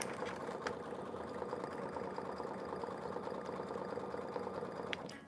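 Embroidery machine stitching a mug rug, a steady fast mechanical whirr with even rhythmic stitching pulses running throughout at moderate, close level, with a couple of faint clicks.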